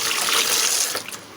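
Tap water runs steadily into a kitchen sink for washing, a close, bright rush that eases and trickles off near the end.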